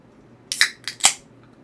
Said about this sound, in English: That was the sound of my water bottle